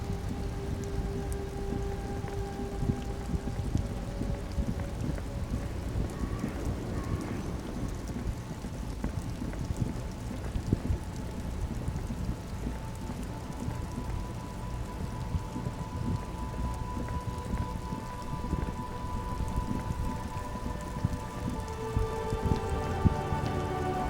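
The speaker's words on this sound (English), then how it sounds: "It's raining again." Steady rain patters on surfaces in the detective video game Disco Elysium, with low rolling thunder underneath, a continuous close wash of drops heard alone without talk.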